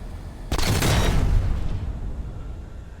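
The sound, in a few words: ship destroyed explosion in video game Space Engineers 2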